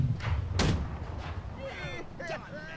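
A single heavy cannon shot booms from the front guns of a sailing warship in Blackwake, sharp and close, followed by a fading rumble while voices talk.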